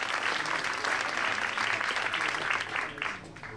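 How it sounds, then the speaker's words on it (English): An audience claps steadily and loudly for dancers leaving the floor at a Strictly Come Dancing-style charity dance event, with dense applause that fades slightly at the end. "Let's give them a round of applause as they exit the dance floor."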